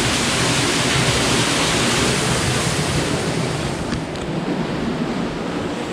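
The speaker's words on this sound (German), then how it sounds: "Wie wir sehen, das Wasser schießt nebenher." Stream water rushes past a jammed water wheel in a constant broadband roar, close and loud, with some wind buffeting on the microphone. No one speaks.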